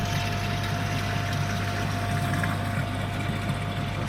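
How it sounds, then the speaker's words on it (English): A pond filter's air pump runs steadily, churning the filter media with a constant low hum and hiss that stays even and close throughout. "so that's the air pump that gets the media moving"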